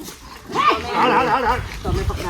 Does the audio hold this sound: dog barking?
yes